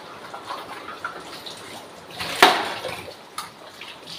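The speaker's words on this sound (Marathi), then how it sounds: "एवढे धुवून घेते भांडे" Dishes and pots being washed under water in a home kitchen: faint, soft splashing and trickling with one sharp clink partway through, quiet throughout.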